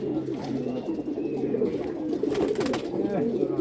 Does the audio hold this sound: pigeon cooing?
yes